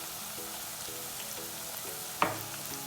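Onions sizzle steadily in a pan for a mushroom dish, a continuous frying hiss broken by a sharp stir or clatter near the end; no one speaks.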